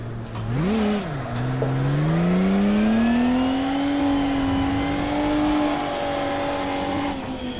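An engine revs hard and continuously while a car drifts in a racing sim game, its pitch swooping up early and then climbing steadily, loud and close with faint tire squeal.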